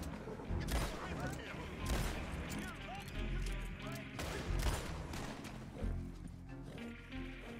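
Gunfire in Red Dead Redemption 2: several sharp, loud shots and short volleys crack out at uneven intervals, with a voice talking over parts of the exchange.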